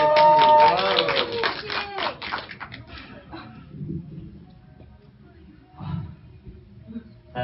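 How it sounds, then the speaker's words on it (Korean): Audience at a cinema proposal event in Suwon breaks into clapping and cheers, a loud burst of applause in the first two seconds that fades quickly into quieter murmuring and scattered sounds. "응원의 박수 한번 부탁드릴게요."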